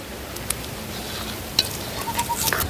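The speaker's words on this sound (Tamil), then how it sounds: "இப்படியே நாங்கள் ஒரு கொஞ்சம் நேரத்துக்கு கிண்ட போனோம்" Pal puttu batter is stirred in a pot in a village home, making soft scraping strokes with a few sharper clicks of the spoon, while faint bird chirps sound in the background.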